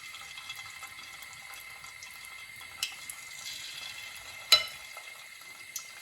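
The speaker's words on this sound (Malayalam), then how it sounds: "ഇനി നമ്മൾ ഇതിലേക്ക് ചിക്കൻ പെറുക്കിയിടുവാണ്" Chicken pieces frying in hot sunflower oil, a faint steady sizzling hiss with occasional sharper pops and crackles, heard close with no voices.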